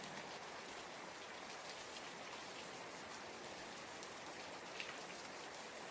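Steady rain falls as an even, dense hiss of drops on surfaces, continuous and moderately soft with no breaks or talk.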